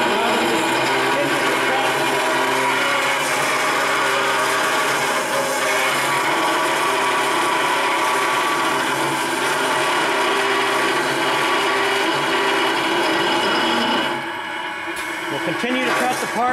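A Scotchman CPO 315 HFA automatic saw runs continuously through metal parts, a loud, dense whine and grinding roar that holds steady before dropping off near the end, with a voice talking over it.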